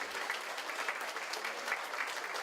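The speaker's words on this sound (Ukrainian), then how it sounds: "професору Івану Михалку його вихованці аплодували, не приховуючи емоцій" Graduates of a Kyiv theological academy applaud their course professor at a graduation ceremony, a steady, dense wash of clapping from a group that holds an even level throughout with no talk.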